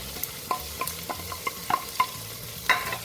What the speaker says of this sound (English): So our onions are frying already